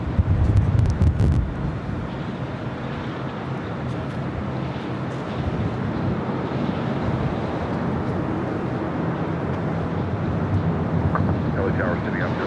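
Strong wind buffets a microphone at an airport with loud, continuous rumbling gusts, heaviest at the start, with airport and aircraft background noise under it.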